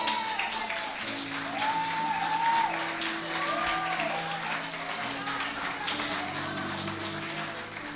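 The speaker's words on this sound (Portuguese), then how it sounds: "dá uma salva de palmas pro Senhor aí" A church congregation claps in a broad, steady wash of applause that carries on for several seconds, mixed with a sustained musical tone and a voice calling out in the background.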